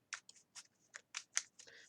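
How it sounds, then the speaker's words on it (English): Tarot cards are shuffled on a tabletop in quick, crisp riffling bursts, close but quiet, about eight short flurries in under two seconds. "while I'm still apparently shuffling these cards"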